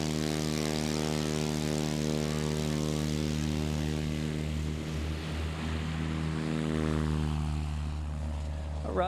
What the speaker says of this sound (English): somewhere around the 130-foot takeoff area there for Gary